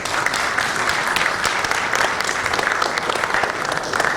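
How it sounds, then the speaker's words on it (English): A conference audience at an LNG panel discussion gives a loud, sustained round of applause, with dense overlapping claps continuing steadily throughout. "Let's give a round of applause"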